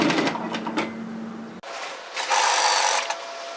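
A sewing machine runs an edge stitch around the pocket of a Japanese-style cross-back apron, whirring steadily up close, cutting out briefly, then starting again with a brighter, busier stitching rattle.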